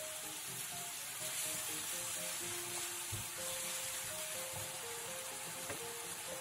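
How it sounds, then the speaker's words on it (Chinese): Onion and carrot strips stir-fried in hot oil in a wok with soy sauce and sweet chili sauce, giving a steady close sizzle with occasional soft clinks of the spatula. "锅中放入适量的油，烧热之后加入洋葱丝，再加一个胡萝卜丝，翻炒均匀"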